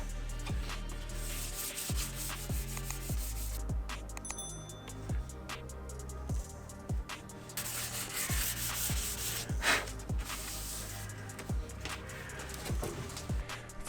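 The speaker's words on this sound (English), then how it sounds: "Then it was time to sand it down, from big grain to smaller grain for a good finish." Sandpaper rubbing over a Subaru Forester SF5 rear spoiler in rhythmic back-and-forth strokes, roughly one per second, with a steady gritty scratching that stays close and fairly loud throughout and carries no speech.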